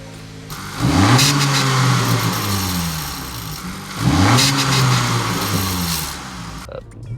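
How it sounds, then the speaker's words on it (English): A 2023 Acura Integra A-Spec fitted with a Boomba blow-off valve revs up twice, each rise followed by a gradual fall, loud and close, with a short sharp burst as the second rev ends. "So let's fire it up and see how it sounds."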